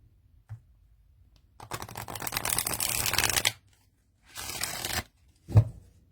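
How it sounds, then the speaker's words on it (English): Two riffle shuffles of tarot cards: a long fluttering rush followed by a shorter one, each ending in a soft tap, up close in a quiet room. "Let's see how we riffle shuffle."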